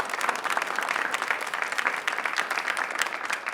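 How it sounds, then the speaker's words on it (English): Audience at a high school varsity quiz competition applauding both teams, dense, steady clapping from a crowd throughout. "how about a round of applause for both of these teams?"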